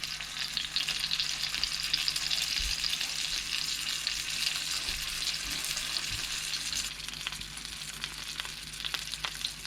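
Shishito peppers fry in hot oil with a steady, close sizzle throughout, while faint scrapes and light taps come through as the peppers are stirred and turned in the pan.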